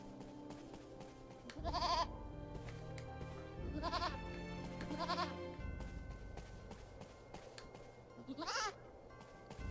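Several loud, wavering goat bleats from the video game Eternal Sonata, spread through the clip and standing out over a busy background of music and ambient sound.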